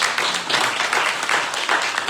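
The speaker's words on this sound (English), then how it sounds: "let's give her another round of applause" A round of applause from an audience at a talk by a consulting speaker, dense steady clapping close and loud throughout with no voices.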